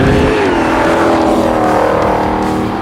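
A 2020 Ford Mustang Shelby GT500 with a supercharged V8 accelerates hard out of a corner on a race track, a loud, close, sustained engine roar with rising revs and supercharger whine throughout.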